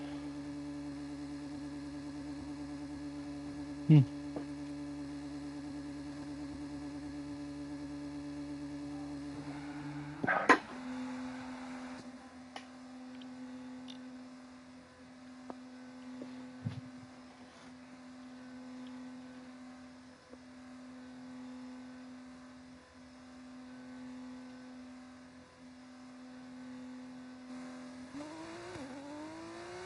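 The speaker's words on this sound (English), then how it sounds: "Okay, engines fired up. We're set. See how it sounds." A Formula 2 race car engine in the F1 25 video game holds a steady idle drone, jumps to a sharp rev near the ten-second mark, then settles back into a level hum. A quiet murmur is heard once.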